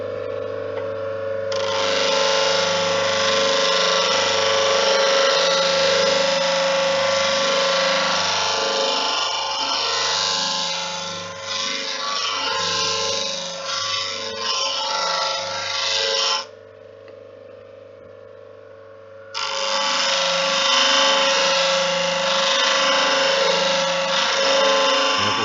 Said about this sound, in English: when I sharpen here, I'm going to put a steeper angle on than the hollow ground